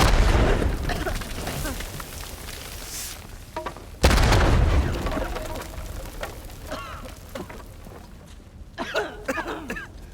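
Deep booming explosions in the video game Uncharted 4 erupt, one near the start and a sharper one midway, each trailing into rumbling debris, followed by scattered clicks and electronic beeps.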